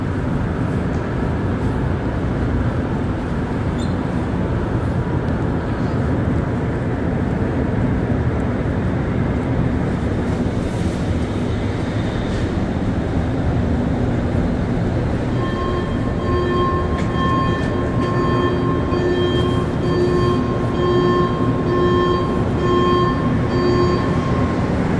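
A Montreal Metro MR-73 train hums steadily in an underground station before its distinctive three-note rising departure tone rings out clearly, followed by a sustained steady whine as the train pulls away.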